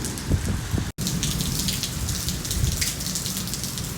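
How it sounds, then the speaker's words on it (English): Heavy rain pours steadily and loudly in a dense, even hiss with a brief dropout early on, and no clear thunder stands out. "it's raining like hell."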